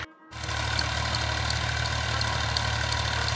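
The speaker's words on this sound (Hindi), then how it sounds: "ये ट्रैक्टर जिस रफ्तार से चलता है ना" A tractor engine idles on a village farm field, a steady low mechanical rumble that kicks in after a brief pause and continues evenly and close.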